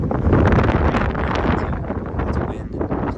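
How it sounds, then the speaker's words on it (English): Wind blows steadily over Lynn Canal, buffeting the microphone with a continuous loud, rumbling rush. "it's wind, clouds blowing in"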